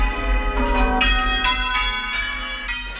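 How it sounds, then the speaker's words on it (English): A church bell being rung up until it swings full circle, each swing striking in a series of loud, ringing bell tones with long overlapping harmonics, close and continuous with no talk. "when the bell is up, it's going full swing one way and then it's swinging right round and full swing on the other way"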